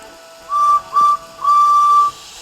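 A train guard's whistle sounds three times, two short shrill blasts followed by one longer held blast, clear and fairly close with no other sounds.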